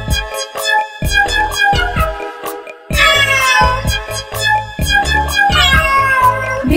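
Repeated bright cat meows ring out over lively backing music in a Hindi children's nursery rhyme, several distinct calls spaced across the song.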